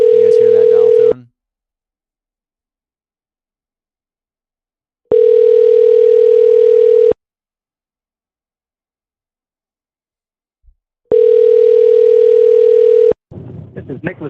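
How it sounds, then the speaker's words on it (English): A telephone ringback tone sounds in three steady two-second bursts separated by silent gaps, loud and clear, followed by a recorded voice at the end. "Can you guys hear that dial tone?"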